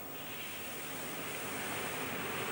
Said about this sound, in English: Following the flames, jets of water quench the steel.